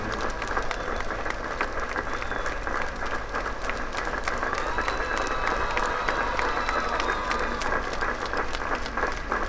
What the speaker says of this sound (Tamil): கைத்தட்டியவர்களுக்கும் கூக்குரலிட்டவர்களுக்கும் நன்றி.